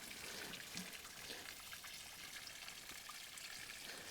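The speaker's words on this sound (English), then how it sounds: "push the filter down and force the water up through the bottom of the filter" Water is forced through a Grayl filter bottle while camping in the winter backcountry, giving a steady, close, hissing trickle that runs evenly throughout with no talk.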